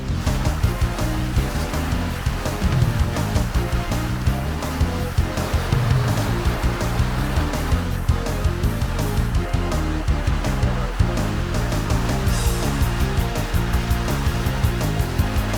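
A 4x4 vehicle drives through sea water off Kõinastu islet, its engine rumbling steadily beneath continuous sloshing and rushing water, loud and close throughout with no talk.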